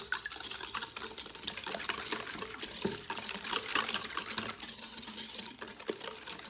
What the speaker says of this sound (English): We're going to add our eggs, our sugar, and our salt. And we're going to mix this really well.